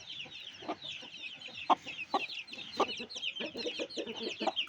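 Roosters clucking outdoors after their coop was sprayed, a busy close flock giving steady overlapping clucks with a few sharper, louder calls, without any clear crow.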